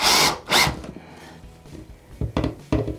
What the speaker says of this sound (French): Je prends ma visseuse.